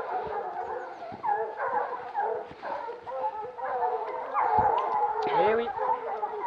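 A pack of hunting hounds bays and howls continuously at a pack-hunting competition in St Chels, with many overlapping voices at moderate distance that keep up a steady, ringing chorus.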